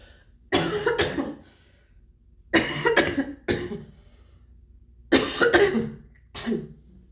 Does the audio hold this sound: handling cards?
no